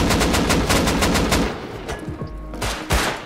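Gunfire in the survival game Rust: a loud, fast burst of automatic shots rattles for about a second and a half, followed by a few scattered single shots and impacts.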